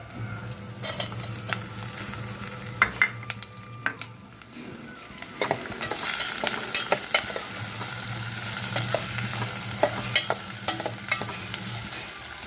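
Tomato pieces frying in a pan for a tomato and drumstick curry: a steady close sizzle with scattered stirring clicks and utensil scrapes, a brief quieter gap partway through, and no talking.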